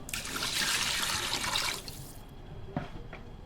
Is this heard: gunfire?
no